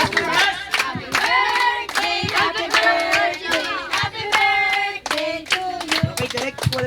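Loud, rhythmic clapping from family at a child's seventh birthday party, beating steadily along with excited group singing, close and energetic throughout.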